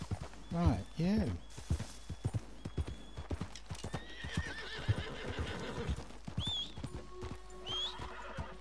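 A horse in the video game Red Dead Redemption 2 whinnies loudly near the start, then hooves clip-clop steadily in a walking rhythm, with another neigh and electronic game tones later.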